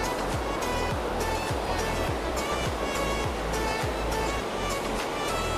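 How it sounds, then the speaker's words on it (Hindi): The Panchghagh waterfall in rainy-season flood, a dense, unbroken roar of rushing water that stays loud and even from start to finish, with no voices over it. "पानी का आवाज़ सुनिए आप लोग"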